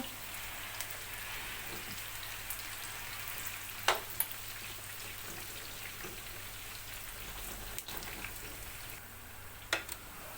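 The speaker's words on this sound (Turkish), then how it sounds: "Patatesler de kızarmaya başladı." Steady, faint sizzling and crackling of potatoes frying in oil, with a few soft clicks and taps scattered through.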